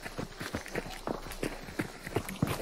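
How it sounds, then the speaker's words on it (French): Footsteps tramp through mud and dirt in Hunt: Showdown, a quick, steady run of soft, thudding squelches, around ten close steps at a brisk pace, fairly quiet and alone. "c'est le bruit de pas dans la terre là. Tu entends bien le frouch frouch frouch frouch."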